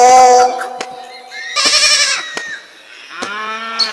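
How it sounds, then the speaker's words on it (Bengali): A goat in a video game bleats loudly several times in quick, wavering calls, close and prominent with short pauses between them. "এখানে ছাগল ডিস্টার্ব দিচ্ছে, কি যে করি।"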